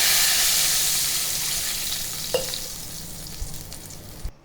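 Water added to boiled dal in a hot pan seasoned with mustard seeds, cumin and asafoetida, producing a loud, continuous frying sizzle that slowly fades over a few seconds, with a few soft clinks near the end.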